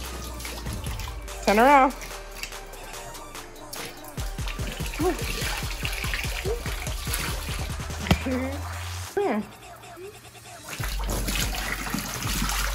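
Water running and splashing while slime is rinsed off a person at an indoor slime pool, a steady wash of trickling and spraying under lively talking.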